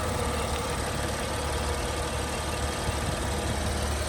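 A 2019 BMW X6 with a twin-power turbo engine and 104,000 miles idles just after start-up, a steady, close, unbroken hum and rumble with no talk.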